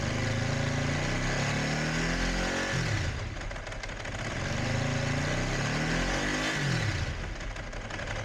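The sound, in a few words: Ducati 749 motorcycle engine revving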